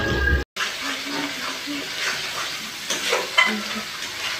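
Onions and spices frying in a pan, a soft continuous sizzle with light stirring scrapes and a few clinks, steady and close, with no speech.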